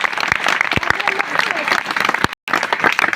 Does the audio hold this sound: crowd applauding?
yes